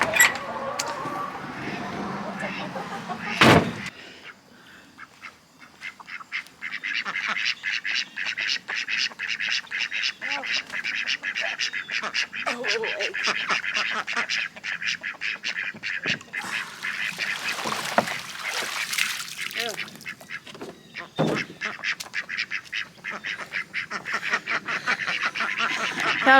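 Domestic ducks around a backyard coop and pool quack in busy, overlapping bursts that carry on steadily at moderate volume, with a few louder thumps and bumps mixed in and no talking.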